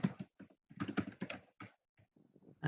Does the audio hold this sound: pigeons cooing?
no